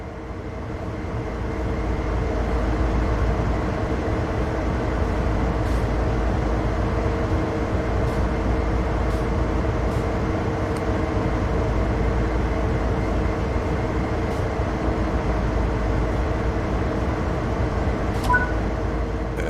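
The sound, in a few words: locomotive running in video game Train Sim World 3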